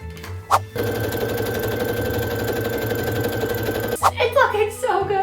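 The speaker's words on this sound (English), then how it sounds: "let's sew this thing now" Sewing machine stitching a Lydia Deetz costume from the Beetlejuice musical, a steady rapid whirring run of several seconds, briefly stopping and restarting, with a short voice before and after.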